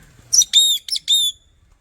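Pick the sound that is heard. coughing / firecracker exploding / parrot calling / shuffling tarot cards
parrot calling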